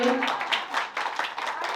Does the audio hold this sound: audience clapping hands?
yes